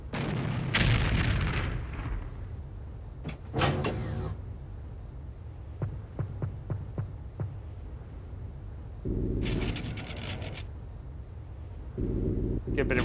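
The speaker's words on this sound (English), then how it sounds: "Get a bit of reaction fire." Reaction gunfire in an Open X-Com Terror From the Deep squad battle, with several short bursts of shots and a few sharp clicks spread across a quiet stretch, heard alongside talk.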